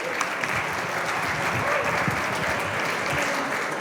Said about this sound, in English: Everyone we'll do that one round of applause.